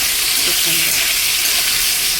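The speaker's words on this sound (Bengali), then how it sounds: "পটল বেগুন ভাজা ভাজা হয়ে গেছে" Pointed gourd and eggplant frying in a pan give a loud, steady sizzle with dense crackling hiss throughout, close and continuous.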